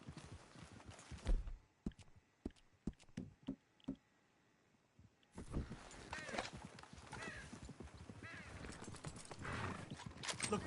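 Horses clip-clopping along a track in a Red Dead Redemption 2 game scene, a scattered run of hoof knocks at first, then denser hoofbeats and movement with voices talking over them.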